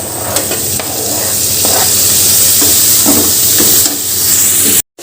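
Onion, garlic and ginger frying in a pan, giving a steady loud sizzle with scraping stir strokes across it and a sudden cut to silence near the end.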